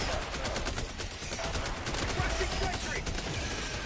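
Autocannon and other gunfire in the shooter Helldivers 2, a dense continuous clatter of rapid shots and impacts, loud and steady, with faint voices mixed in.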